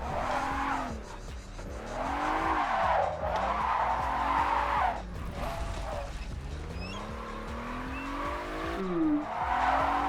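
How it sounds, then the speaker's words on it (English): A car drifts through a corner in the Test Drive racing game, its engine revving in sweeping pitch bends as the tires squeal steadily over several seconds. Loud and close throughout, with no voices. "See if we can clear this corner with a drift."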